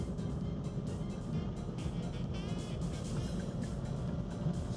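A car accelerates on ice in Lapland, its engine a faint, steady rumble with a rising whine as it pulls through fourth gear, heard from inside the cabin.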